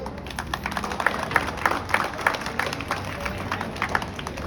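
An audience at a Republic Day speech event claps for the freedom fighter Kalu Singh Mehra, a modest burst of scattered clapping that stays moderately loud and lasts a few seconds.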